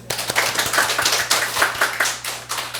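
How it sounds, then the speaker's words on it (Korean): Church congregation clapping in a brief round, with close individual hand claps in an uneven, quickening patter over a low steady hum. "우리 소개해 주시면 박수 한번 쳐드릴까요?"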